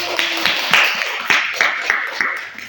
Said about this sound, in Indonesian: Beri tepuk tangan dulu untuk kalian